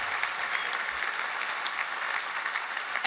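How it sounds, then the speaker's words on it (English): An audience claps in sustained, even applause that fills a room at a club awards breakfast, with no voices standing out. "let's have another round of applause for Deng."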